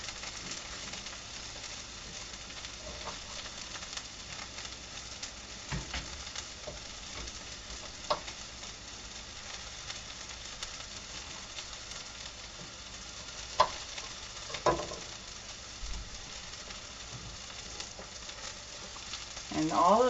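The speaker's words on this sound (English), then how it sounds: "all of this that's in here already is browning up really nice" Pork and garden vegetables with fennel fry in a pan, giving a soft, steady sizzle at moderate distance, broken by occasional clinks and scrapes of stirring.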